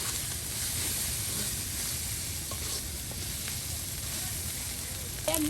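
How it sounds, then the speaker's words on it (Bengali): Onion and garlic frying in hot oil at an outdoor village kitchen, giving a steady, close sizzle that runs throughout with occasional faint stirring clicks. "একদম তেলে কিন্তু আপনার সেই পেঁয়াজ রসুন তার সাথে আপনার সব কিছু একদম ভেজে নেওয়া"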